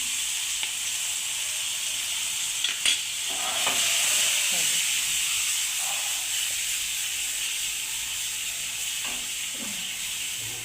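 Chili powder frying on a hot tawa over a low flame for egg masala: a steady, bright hiss of sizzling oil runs throughout, with a few soft scrapes and clicks of stirring, close and continuous.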